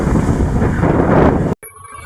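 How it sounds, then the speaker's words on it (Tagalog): Wind and big ocean waves out at sea from a small boat, a dense, loud rushing roar that cuts off abruptly near the end. "Laki ng alon."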